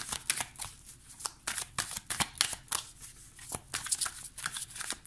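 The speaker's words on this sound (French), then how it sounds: "On va prendre 3 cartes également." Tarot cards are shuffled by hand, a rapid series of crisp riffling bursts close to the listener, repeating in an uneven rhythm with no talking.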